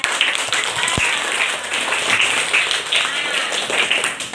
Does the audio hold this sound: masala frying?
no